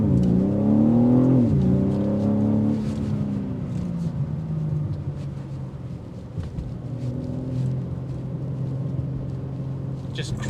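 A 2025 BMW M3 Competition xDrive, rated at 523 horsepower and 479 pound-feet, accelerates hard from a standstill during a test drive, its engine note climbing through a gear change and then settling into a steady loud drone, with voices talking inside the cabin.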